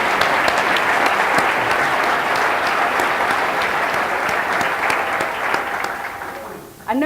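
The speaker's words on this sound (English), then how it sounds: "let's give them a round of applause" A conference audience at an economic development group's 50th anniversary gathering breaks into sustained applause, dense steady clapping from a large crowd that fills the room before tapering briefly and picking up again at the end.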